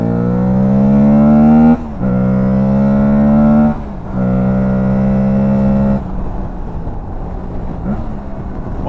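An Aprilia Tuareg 660 motorcycle engine revs hard on the throttle three times, loud and close, with each held blip dropping back before the bike settles into a rough, lumpy idle.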